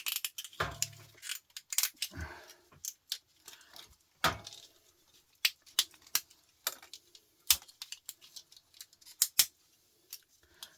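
Snips of copper wire being cut from a fluorescent light housing end, irregular sharp clicks and clacks scattered across the clip, fairly close, with no talking.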